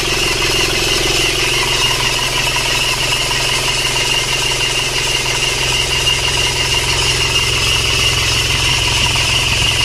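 A cold car engine idles while warming up as the exhaust is checked. It gives a loud, steady, close drone with a constant rumble and an even hum throughout, and no talking.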